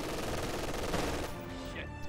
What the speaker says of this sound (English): MG42 forces a retreat